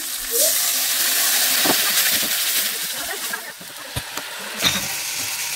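Spiced water poured into a masala of frying tomato bursts into a loud, steady hiss and sizzle, with a few sharp crackles and pops scattered through it.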